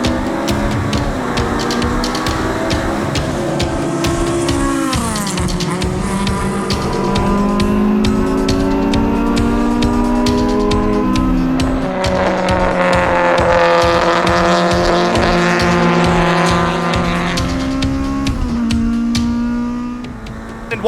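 Race cars roar off together at the green flag start of a GLTC race at Watkins Glen, a loud continuous pack of engines rising and falling through gear changes, with tire squeal mixed in and no talk.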